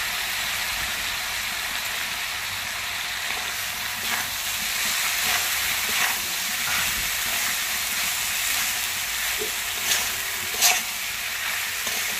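Mustard paste fries in a pan with a steady, bright hiss and sizzle that holds for several seconds, with a few sharper pops and crackles near the end, close and without talk.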